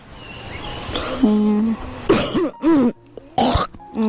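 A few harsh, separate coughs and throat-clearing sounds, close and loud, with short pauses between them.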